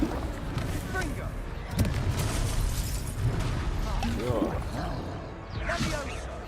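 A Confringo fire-blast spell from a Harry Potter video game booms with dense rumbling bursts and whooshes. It layers into a continuous loud wash of crackling impacts, with a voice speaking over the din.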